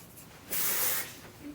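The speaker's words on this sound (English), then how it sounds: "Hairspray. I'm just kind of like spritzing it up with my fingers" A single hissing burst of hairspray, about half a second long, sprays onto hair close by against a quiet room.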